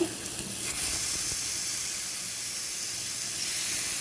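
Chicken tikka sizzles steadily in a pan over a medium flame on the stove, a constant close, bright frying hiss with no talking.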